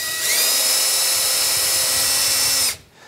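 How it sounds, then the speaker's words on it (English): A power drill bores a couple of shallow holes in a guitar neck during a Telecaster build, a loud steady high whine that holds for nearly three seconds and then cuts off abruptly, leaving a quiet room. "is drilling a couple holes, not too deep"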